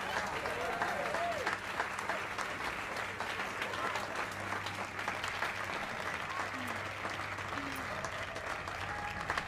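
Sustained audience applause welcoming an architect on stage, a dense continuous patter of many hands with crowd murmur and a few raised voices and whistles mixed in, steady in level throughout.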